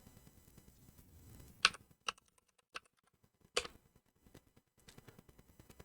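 Fingers typing a short word on a computer keyboard into a search box, a handful of crisp, uneven key clicks spaced apart in a quiet room, close and alone with no talk.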